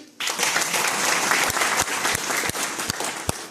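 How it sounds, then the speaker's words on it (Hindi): A seminar audience at a business event in Delhi claps in dense, sustained applause, with a few sharper individual claps near the end. The sound is loud and close. "सभी कंज्यूमर बैठो, अपनी बजाओ ताली फिर।"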